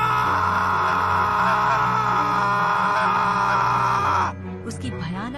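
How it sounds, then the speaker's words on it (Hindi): A priest screams in agony as his robes catch fire inside a temple, a loud, sustained, wavering howl close up that breaks off abruptly, leaving a quieter strained cry. "पुजारी दर्द से चीखने लगता है।"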